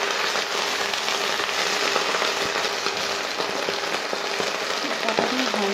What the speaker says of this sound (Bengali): পাতাগুলো হালকা ভেজে নেবো, হালকা করে ভেজে নেবো।